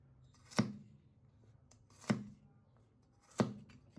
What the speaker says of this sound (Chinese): 准备一把大蒜，将它一分为2